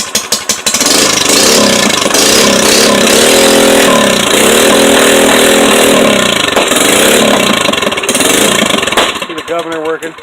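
A 97cc Baja small engine runs loudly and roughly, its governor surging the speed up and down instead of settling to an idle; the engine cuts out near the end, leaving a brief quieter tail.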